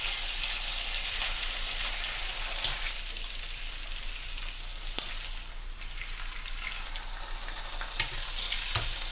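Lamb pieces cut from a leg sizzle steadily in a wok while being stirred for couscous, a constant, close hiss of hot oil with occasional sharp clinks of the utensil against the metal.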